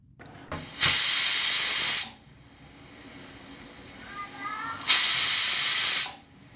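A pressure cooker cooking dal lets out two loud, sustained hissing whistles of steam, each lasting about a second, with a quiet gap between them.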